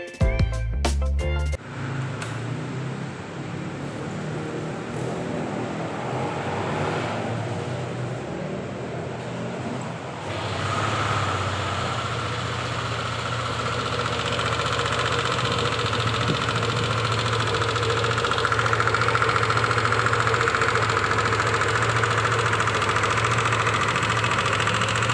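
Yamaha Aerox 155 scooter engine idling steadily up close with a persistent knocking rattle, a continuous mechanical drone that grows slightly louder over the second half.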